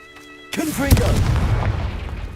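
A Confringo blasting spell goes off in Hogwarts Legacy, a sudden booming burst after a quiet start that rings out with a whooshing, crackling tail and fades over the following seconds, close and loud.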